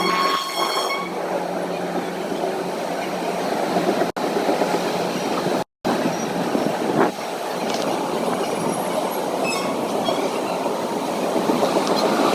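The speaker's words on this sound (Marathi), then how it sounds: "ट्रेन तो आ गई है" A passenger train rolls into a station with rhythmic clickety-clack of wheels over rail joints and faint wheel squeal, a steady, fairly loud rumble throughout with a brief dropout midway.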